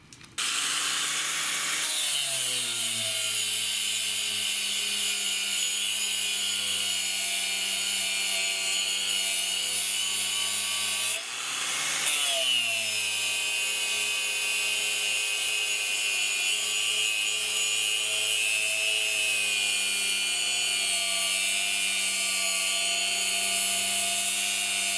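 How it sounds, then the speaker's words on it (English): Angle grinder cutting away metal on a 1998 Honda Accord during a manual transmission swap, a loud sustained whine that spins up, runs steadily, briefly drops and restarts midway, then continues to the end. "just to delete material with an angle grinder."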